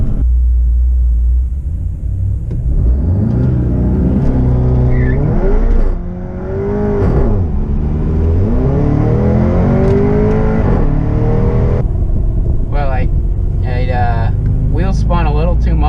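Audi RS3 fitted with a DS1 hybrid turbo launching hard down a drag strip in sport mode, its engine rumbling and climbing through the gears with an early shift, loud and continuous, with wheel hop noted on the 1-2 shift.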